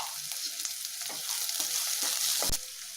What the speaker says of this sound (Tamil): சின்ன வெங்காயம், வெள்ளைப்பூடு, வதங்கிறது கொஞ்சம் உப்பு